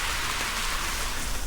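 Heavy rain pours down during a marathon run, a dense, steady hiss of drops striking surfaces close by, loud and continuous with no voices.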